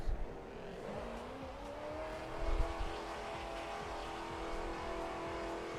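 Racing car engine in Assetto Corsa, heard from a bonnet camera, droning steadily throughout with rising and falling revs and a couple of louder bursts, no talk over it.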